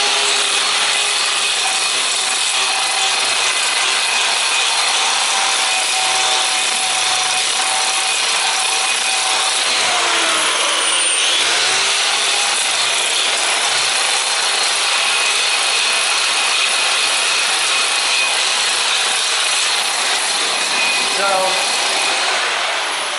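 A 7-inch grinder grinds away an epoxy floor coating in a room, a constant loud abrasive roar with a high whine that holds for over twenty seconds with little variation.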